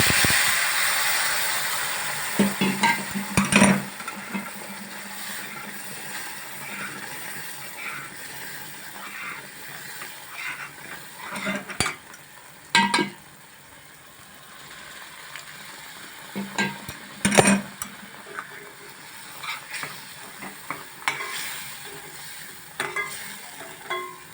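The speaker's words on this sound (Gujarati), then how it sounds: "હવે એમાં હું નાખીશ દૂધ." Milk goes into semolina roasting in a pan for sheera, a sweet semolina pudding. Soft sizzling runs under several sharp, louder hissing bursts and scraping stirs, with quiet stretches between them.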